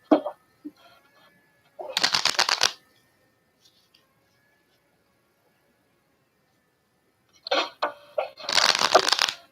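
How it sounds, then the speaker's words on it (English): Tarot cards shuffled by hand in two bursts of rapid riffling, close and crisp, separated by a few seconds of near silence. "I'm gonna get a good shuffle here."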